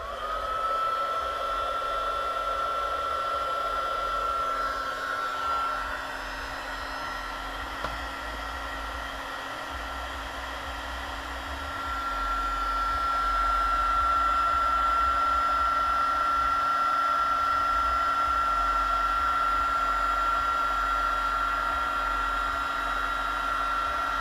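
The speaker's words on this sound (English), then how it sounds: "It's always a good idea to let your heat gun heat up for about 20 seconds or 10 seconds before you start doing it" A heat gun runs steadily for the whole stretch, a loud continuous blowing whine that dips slightly in the middle and then comes back fuller, used while making a Christmas paper bag, with no talking.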